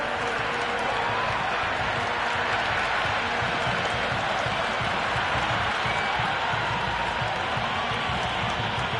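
A dense, unbroken roar of a cheering stadium crowd in the cricket video game Cricket 26 holds loud and steady, a thick wash of voices and clapping with no break.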